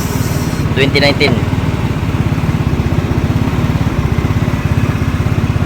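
A six-year-old motorcycle engine idles close by with a steady, even throb that runs the whole time, while a person talks briefly over it near the start.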